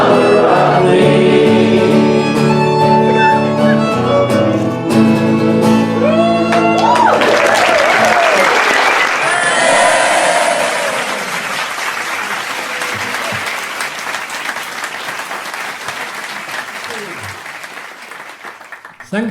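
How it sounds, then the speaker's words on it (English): An audience at a folk club claps and cheers as a song ends, first under the closing music and then alone, loud and dense before thinning out. "All together now with some resounding applause."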